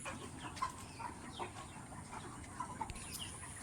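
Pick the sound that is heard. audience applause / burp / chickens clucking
chickens clucking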